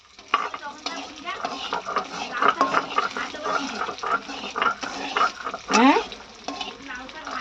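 Spinach and bottle-gourd greens fry with tempering spices in a pan, giving a close, steady sizzle broken by stirring scrapes, with a brief voice over it.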